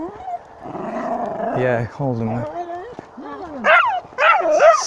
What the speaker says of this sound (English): Leave that little dog alone.